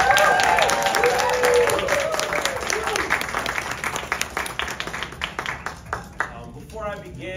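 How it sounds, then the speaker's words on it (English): An audience applauds to welcome the City of Orlando's poet laureate to the stage, a full round of clapping that starts loud and dense, then thins into scattered individual claps before fading, with some voices mixed in early on. "of applaud welcome for the City of Orlando's Poet Laureate, Shawn Welcome."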